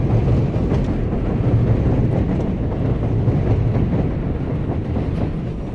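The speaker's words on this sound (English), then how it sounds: "Wait for this train to pass." A train rolls past in New York City on a snowy day, a loud, steady rumble with rhythmic clickety-clack of wheels on the rails, fading slightly toward the end.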